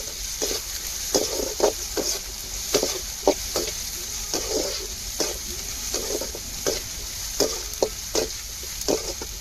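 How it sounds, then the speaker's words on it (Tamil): Onions sautéing in hot oil in a pan, a soft continuous sizzle broken by regular scraping stirs, with no talking. "நம்ம வெங்காயத்தை சேர்த்துக்கிடுவோம். வெங்காயம் நல்லா வதங்கணும்."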